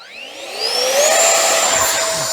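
An E-flite Viper 64mm ducted fan RC jet spooling up on throttle outdoors, a loud whine rising steadily in pitch over about a second and then holding at a high, even scream.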